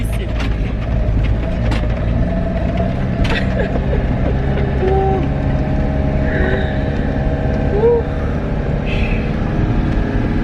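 A camper van driving over a rough, unstable road in Turkey, engine rumbling steadily while the body creaks and rattles with occasional squeaks and knocks.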